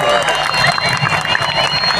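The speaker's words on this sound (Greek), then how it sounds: "Μόλις βγει, δώστε ένα δυνατό χειροκρότημα." A live audience in Thessaloniki breaks into loud, sustained applause and cheering as the host steps out, a dense roar of clapping with voices mixed in.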